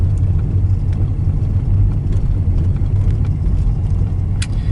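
A tiny car drives a narrow gravel back road in Clay County, Florida, with a steady, close engine rumble and tire noise that never lets up, plus faint scattered ticks of stones.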